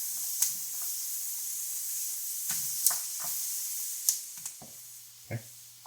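Beef stir fry sizzles in a hot pan on medium heat, a soft steady hiss punctuated by several brief sharp crackles and spits, close-up and moderately quiet, with a low hum entering near the end.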